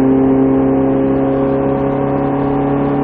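A Ferrari F458 on a race track accelerates hard, its engine holding a loud, steady, tonal roar from close inside the car throughout.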